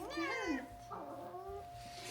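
A cat meows in a drawn-out, rising and falling call up close, followed by a softer second meow, with faint background noise.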